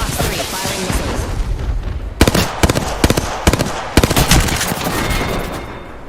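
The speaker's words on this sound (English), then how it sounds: "Fox 3, firing missiles." Missiles firing in a combat video game, a string of sharp loud bursts and booms in rapid irregular succession over a dense roar of game noise.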